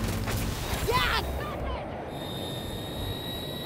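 Fighter jet engine in a DICE video game, a broad roaring rush with a whine that sweeps and settles into a steady high tone, loud and close, with engine rumble continuing underneath.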